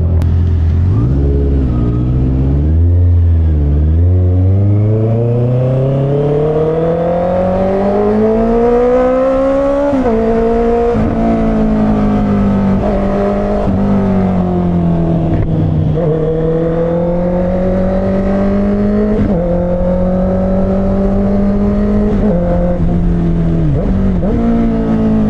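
A Honda CBR650R big bike engine brakes at speed in heavy evening traffic, a loud continuous engine drone whose pitch rises, dips and shifts with the revs throughout, with no talking.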